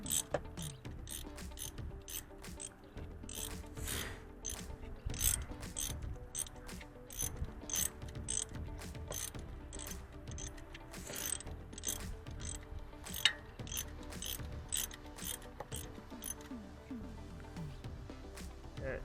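A ratchet wrench tightens a 10 mm bolt on a Toyota Camry alternator, giving a long run of quick, steady clicks close up, with brief pauses between strokes.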